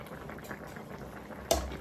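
A pot of West African-style chicken and plantain porridge bubbles quietly on the stove, a soft continuous simmer broken near the end by a single louder clunk.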